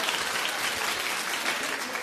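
A studio audience on a daytime talk show claps steadily for two seconds, dense and even with no break in the applause.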